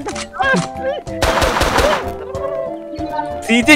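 Several sharp gunshots from a Prop Hunt video game burst out amid a loud, busy mix of synthetic effects and tones, with a rapid cluster in the middle.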